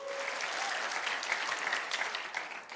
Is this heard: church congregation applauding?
yes